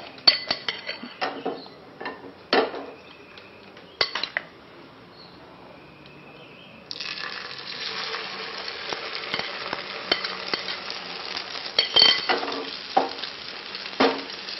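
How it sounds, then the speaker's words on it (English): Beaten egg poured into a hot pan, starting with clinks and stirring, then swelling into a steady sizzle of frying under scattered scraping and utensil taps. "My pan is now ready. I'll put my egg."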